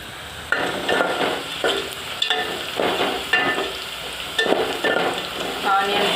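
Onions frying in a pan for Telangana-style chicken gudalu: a steady close sizzle broken by regular scraping stirs roughly every second, with no talking.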